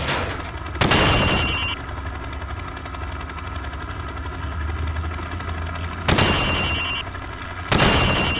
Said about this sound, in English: I want to see you fire from the hip